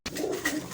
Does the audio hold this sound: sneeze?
no